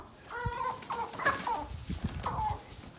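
Chickens cluck and squawk in a series of short, close calls while a young rooster scraps with a chick, several bursts of agitated fowl noise in a farm setting.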